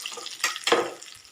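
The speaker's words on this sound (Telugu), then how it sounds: "ఇట్లా సౌండ్ రావాలండి తాలింపు వేస్తే" Tempering spices hit hot oil with a crisp sizzling burst, two sharp spitting crackles within a short moment, then settle into a softer, fading fry.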